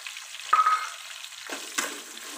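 Chopped onions with green chillies and bay leaves sizzling in oil in a pan while brinjal rice is cooked, a steady close frying hiss with a couple of stirring scrapes.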